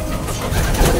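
Pigeon coos from a racing pigeon, low soft calls over a steady close background hum.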